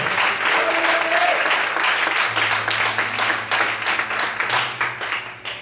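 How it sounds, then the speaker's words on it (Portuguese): A church congregation applauds steadily throughout, a dense, loud wash of many hands clapping with a low tone sustained beneath it. "Você pode aplaudir o Senhor?"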